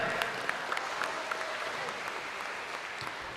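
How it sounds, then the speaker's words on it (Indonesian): An audience at an MTQ Quran recitation competition in Balai Betomu, Sanggau, claps in a steady, moderately loud burst of applause that fills the whole moment. "Mana tepuk tangannya?"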